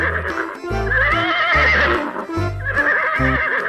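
A brown horse neighs twice in loud, close whinnies with a gap between them, heard alone with no talking.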